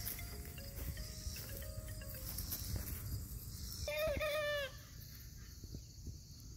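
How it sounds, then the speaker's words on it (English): Young Freedom Ranger roosters, about seven to eight weeks old and free-ranging, give a single short, wavering crow at middle distance over a steady background of insects and birds. "That's what the roosters sound like"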